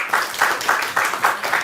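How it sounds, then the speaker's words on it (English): At a panel discussion, an audience welcomes the panelists with applause. The sound comes as a rhythmic series of about six evenly spaced bursts, moderately loud and close, with no one speaking. "with a huge round of applause, please welcome our experts for today"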